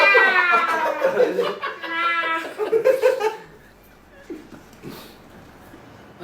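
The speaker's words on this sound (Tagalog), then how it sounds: "At saka may pusa yan na gumaganong gano'n." A cat meows in a string of loud, drawn-out calls over the first three seconds, then falls quiet while faint voices and soft noises carry on.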